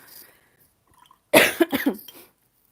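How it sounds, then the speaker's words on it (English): A close, loud burst of coughing from a frog in the throat, several rapid hacking coughs in a row after near silence. "Sorry, I keep coughing."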